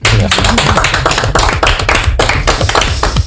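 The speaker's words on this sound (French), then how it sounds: "Je pense qu'on peut applaudir Aurélien." A studio audience applauds a guest named Aurélien, loud, dense clapping sustained throughout with no talking over it.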